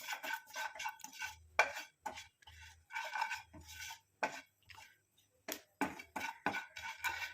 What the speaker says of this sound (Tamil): இப்போ இது எல்லாத்தையும் சேர்த்து நல்லா அந்த மாதிரி வறுத்து எடுத்துக்கலாம்